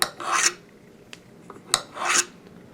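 A metal screwdriver shaft stroked along a magnet to magnetize it. Two raspy, scraping strokes come close and clear, with small clicks and taps between them. No one talks.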